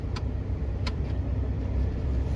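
A Chevrolet Blazer truck with a 4L60E transmission, just repaired for a reverse fault, rolls slowly with a steady low engine drone and road rumble from inside the cab, plus a couple of faint clicks.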